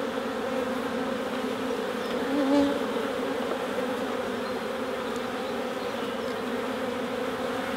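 A dense, steady drone of many honey bees buzzing fills an open hive during an inspection, close and continuous, with a faint brief voice midway.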